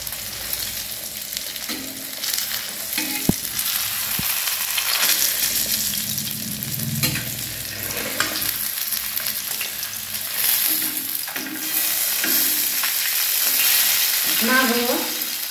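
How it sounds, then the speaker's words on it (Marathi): Fish frying in a pan, a strong steady sizzle with occasional spatula scrapes and clinks as the pieces are flipped. "मस्त असं आपला मासा एक साईडने छानपैकी भाजले गेले"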